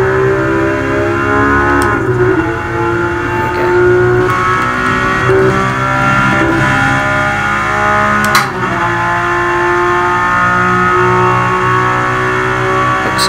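A car engine in the Gran Turismo Sport racing game revs continuously, its pitch climbing and dipping through the gears with a sustained, buzzy roar and a brief dip near the end.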